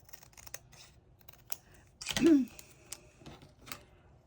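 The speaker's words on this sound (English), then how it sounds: "I'm thinking that I want to trim this right here" Scissors snip through cardstock in one short, crisp cut near the middle, surrounded by faint handling clicks and paper rustles.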